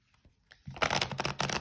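A short, close burst of cards being shuffled, quick riffling flutters after a few faint taps.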